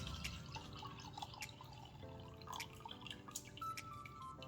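Reishi mushroom tincture trickles and drips steadily into a container, with small splashes and a faint running-water sound throughout, fairly close and quiet.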